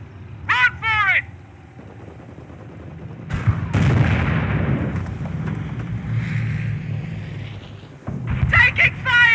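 Gunfire and artillery rumble through a World War II battle in Company of Heroes, the 2006 PC strategy game, with a heavy midsection of blasts and shots while soldiers' voices shout at the start and end.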